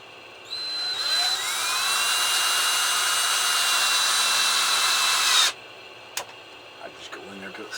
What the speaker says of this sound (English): Drill's going the right direction.